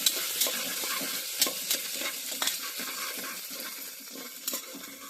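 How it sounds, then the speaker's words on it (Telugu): Chopped onions sizzle in hot oil with green chillies and curry leaves while a spoon stirs them, the scrapes and clinks coming at an irregular rhythm over a steady close frying hiss with no voices. "ఆనియన్స్ వేగేలాగా కలుపుకోవాలి"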